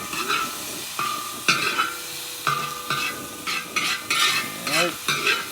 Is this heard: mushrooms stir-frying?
yes